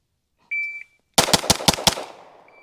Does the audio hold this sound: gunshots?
yes